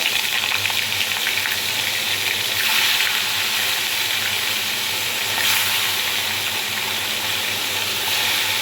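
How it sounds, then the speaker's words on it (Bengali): Koi fish fry in hot white oil in a pan, a loud continuous crackling sizzle that holds steady throughout with slight swells, and no one speaks. "তেলটা যখন গরম হয়ে যাবে তখন এক এক করে সব মাছগুলো ভেজে নেব"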